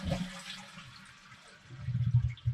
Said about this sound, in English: You want to flush the toilet?